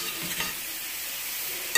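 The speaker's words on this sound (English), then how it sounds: "going to fluff it with a fork to incorporate the veggies" A fork fluffs cooked Mexican red rice with mixed vegetables in a pot, producing a soft, continuous hissing scrape, close and fairly quiet, with no talking.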